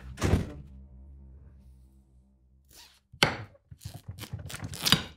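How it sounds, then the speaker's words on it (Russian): A door in a home is pulled shut with a solid thunk, followed after a pause by rattling latch and further knocking and shuffling sounds nearby. "Дверь закрой."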